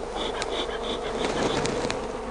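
Bees swarm and buzz steadily around a top bar hive, a dense close drone with a few louder passes near the listener and no talk.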